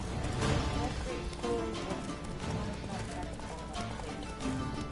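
Roach, a horse in the video game The Witcher 3, trots with rhythmic clip-clop hoofbeats mixed under game music and ambience, with someone talking over it.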